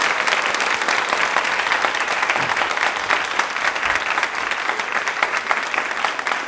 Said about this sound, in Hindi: तालियां जोरों से शोरों से अपने लिए बजाइए प्लीज